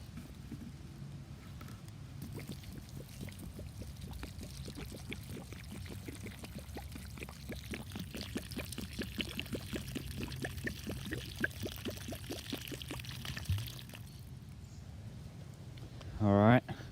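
Water poured from a container onto a plant splashes and trickles softly with a faintly rhythmic patter for several seconds, quiet and close, ending with a brief louder knock.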